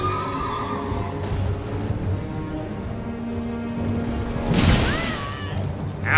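A horse whinnies loudly in the video game Elden Ring, a rising and falling neigh near the end, following hoof clatter and rumbling combat effects.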